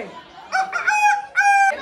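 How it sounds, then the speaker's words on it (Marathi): A rooster crows loudly and close by, one drawn-out call rising and breaking into a long held note. "कोंबडा बोले."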